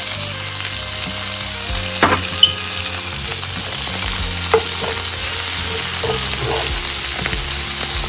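Garlic and parsley fry in a pan while short ribs are being prepared, making a loud, steady sizzle broken by a few sharp clacks from stirring. No one speaks.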